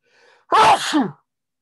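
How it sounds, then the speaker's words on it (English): A single sharp human sneeze with a brief inhale before it, loud and close, followed by quiet. "Ah, Gesundheit to me."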